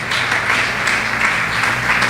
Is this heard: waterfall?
no